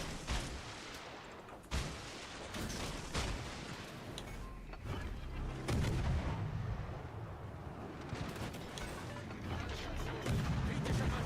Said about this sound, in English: First salvo fire.